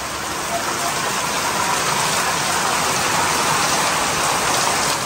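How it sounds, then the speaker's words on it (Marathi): Heavy monsoon rain in the hills of the Konkan countryside, a dense, loud, unbroken roar of downpour on surfaces that holds steady from start to finish. "पूर्ण डोंगरात येताना असं असं दिसतं पाऊस."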